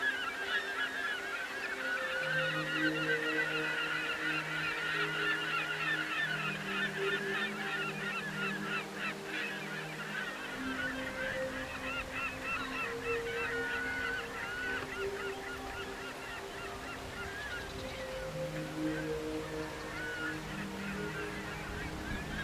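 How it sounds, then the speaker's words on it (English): Seabirds nesting on the towering cliffs of a harbour in the Faroes call throughout as a dense, continuous chorus of honking, goose-like cries, with a low engine-like drone underneath for the first half. "seabirds nested on every crevice in the towering cliffs"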